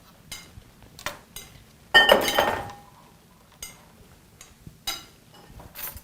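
A utensil stirs cheese-topped food in a dish, giving a few scattered light clinks and scrapes with one louder clatter in the middle and quiet gaps between.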